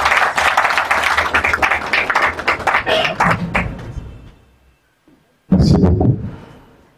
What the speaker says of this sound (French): Si on peut applaudir de la salle.